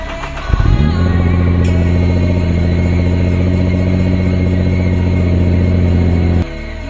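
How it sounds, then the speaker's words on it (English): A Nissan GT-R cold-starts early in the morning: a brief cranking burst, then a loud steady idle with a strong low hum and a tonal whine, held close by for several seconds before it cuts off sharply. "let's get this thing cold started"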